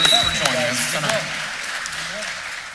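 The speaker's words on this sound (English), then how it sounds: "Let's have another round of applause for our three candidates." An audience at a Poughkeepsie at-large candidates' political forum applauds, a moderate spatter of clapping that fades quickly while a voice speaks over it.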